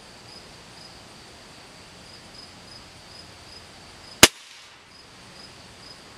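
Single sharp shot fired through a cheap eBay chronograph outdoors, one loud crack standing alone over a steady chirp of crickets in the background.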